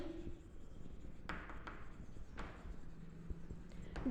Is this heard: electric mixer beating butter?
no